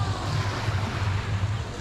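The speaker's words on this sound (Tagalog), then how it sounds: "Maganda yung alon nila dito kasi hindi siya malakas" Soft waves wash in steadily with a low rumble and some wind buffeting the microphone, a calm, continuous sea sound.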